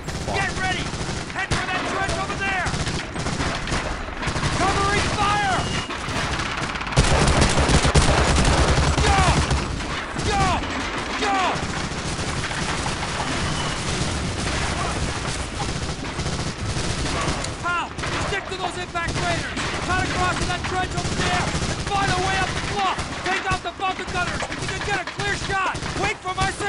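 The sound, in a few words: MG-42 machine gun fire in the video game Medal of Honor: Allied Assault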